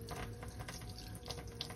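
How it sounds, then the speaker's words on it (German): Tap water runs steadily through a camper's water filter system, a continuous soft rushing flow at low level with no talking. "Jetzt fließt das Wasser schön."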